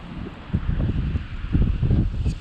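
Strong wind buffets the microphone outdoors by the water during a fishing trip, a low rumbling roar that gusts in uneven surges, close and loud, with no voices.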